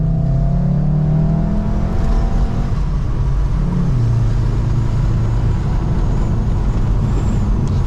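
A VW Golf R MK7.5 with 306 hp accelerates hard on a road drive, its engine droning loudly and steadily with rising and falling tones, wind and road roar constant throughout and no talking.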